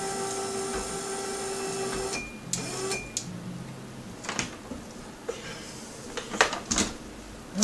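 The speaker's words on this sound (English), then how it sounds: "I'm going to try not to grind it so much." Grinding on a steel die for a die press: a steady machine whine with tonal bands runs for about two seconds, then stops, followed by scattered short scraping and clicking bursts.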